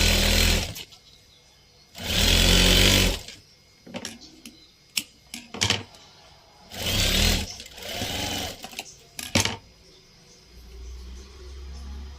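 A domestic sewing machine stitching a zigzag seam on tailored fabric, running in several loud bursts of rapid whirring separated by brief pauses, with sharp clicks and handling noises in between.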